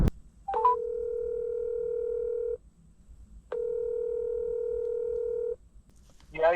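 Telephone call placed for a delivery driver: two long electronic ringback tones, each about two seconds with a steady harmonic buzz, separated by silence, then a brief voice starts at the end.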